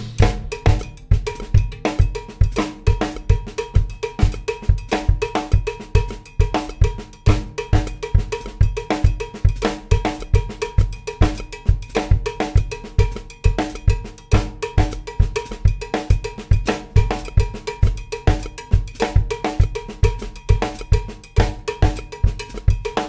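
Mozambique groove with a cascara pattern played on cowbell over a bass drum hemiola; steady, dense, driving strokes continue loudly throughout with no talking.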